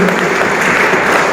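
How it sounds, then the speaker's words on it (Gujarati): An audience applauds during the lamp lighting ceremony at a divyang cricket tournament in Unjha, with a dense, loud, continuous clapping that fills the whole moment. "તાળીઓના ગડગડાટથી આપણે વધાવી લઈએ."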